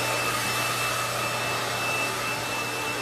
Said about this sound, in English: I'm going ahead and I'm just blow drying the hair and getting it up off the scalp mainly.